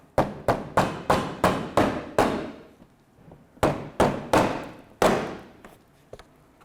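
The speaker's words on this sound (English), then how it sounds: "I'm going to grab a little hammer and give it a little persuasion." A small hammer taps a push pin into a 2002-2005 Ford Explorer bumper in quick sharp taps, six in a row, then a pause and a few more spaced blows, each ringing briefly.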